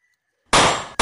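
Two sharp, loud firecracker bangs: the first starting about halfway through and ringing for a moment, the second hitting right after it, close by.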